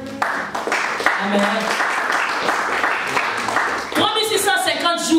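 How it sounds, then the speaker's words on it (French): A church congregation breaks into applause during a sermon, a broad, continuous clatter of many hands mixed with voices calling out, growing brighter and louder toward the end. "Applaudissons pour le Seigneur."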